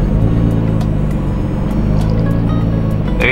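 A Nissan R32 Skyline engine runs at a steady, loud drone while being driven with clutch practice, its low rumble holding fairly even with little sign of a sharp rev rise.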